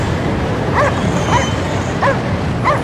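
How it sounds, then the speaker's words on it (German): A dog in the video game Cryostasis gives four evenly spaced, high yelping barks over a dull, noisy ambient background. "Auf zu bellen, ich höre dich ja."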